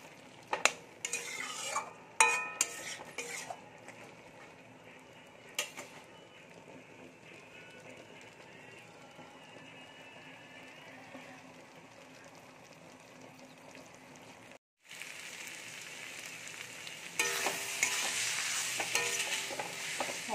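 Potatoes and fish curry spices are sautéed in a pan, a faint low sizzle with sporadic stirring clinks and scrapes, louder toward the end.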